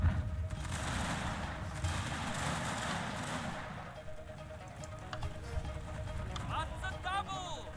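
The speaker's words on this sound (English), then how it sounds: "I'm having mortar teams opening fire" Mortar teams and musket volleys firing across a Shogun 2 Fall of the Samurai battlefield, a dense rumble of distant gunfire and booms running throughout, with a voice talking over it.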